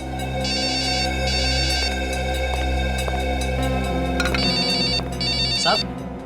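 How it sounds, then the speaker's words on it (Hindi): Inside an office cabin a phone's electronic ringtone keeps repeating loudly over a low background hum, with brief voices near the end. "नवीन साहब आपका फोन बज रहा है."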